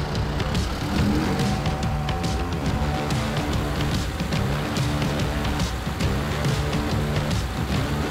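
A Lada Niva, freshly restored after long storage, drives along with a continuous loud engine rumble and road noise, steady and close throughout with no talking.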